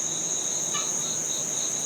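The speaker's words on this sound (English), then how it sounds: "the wind and the bugs and the frogs and everybody" Insects chirp and trill steadily in an outdoor fall garden between hurricane rains. The layered drone is faint but constant, with a soft wash of background noise and no voices.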